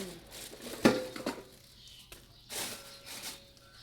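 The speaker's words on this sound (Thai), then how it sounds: "ตีไข่จ้ะ" Eggs are whisked in a bowl in a home kitchen while khao jee is prepared, with a few quick clinks and scrapes of utensil against bowl, faint and brief.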